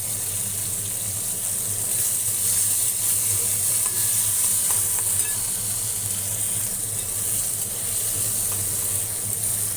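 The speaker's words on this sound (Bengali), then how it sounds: "এবার ওই তেলের মধ্যেই আমি এই যে রসুনটা দিয়ে দেবো, ফোড়ন, আর কাঁচা লঙ্কাটা দিয়ে দেবো।" Garlic and green chili frying in hot oil, a steady close-up sizzle with light stirring noises running without a break and no voices.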